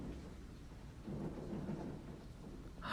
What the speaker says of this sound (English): It's a little bit thundering, but I've had worse thundering on just like a regular rainy day.